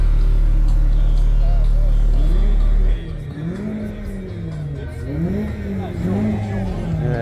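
Car engines rev at a MECA show in Louisville, Kentucky, starting with a loud low drone that drops and then climbs in repeated rising and falling revs, close and strong amid crowd noise.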